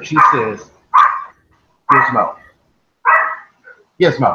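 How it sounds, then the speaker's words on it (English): A dog barks in short bursts roughly once a second, fairly close and loud, while someone speaks between barks. "That's the dog."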